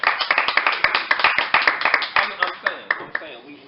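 A round of applause at a podcast recording, several pairs of hands clapping quickly and sharply up close, the claps thinning and slowing out over a few seconds.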